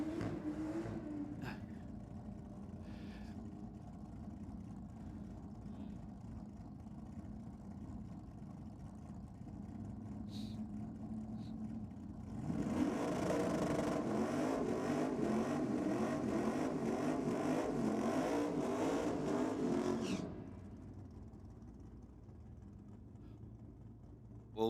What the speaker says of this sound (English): Well, VK, nice big burnout in the rocket lane.